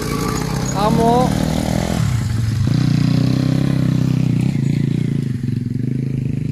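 Motocross bike circling a dirt track, engine buzzing close and loud with a quick rev surge early on, then a sustained drone; people speak over the engine noise.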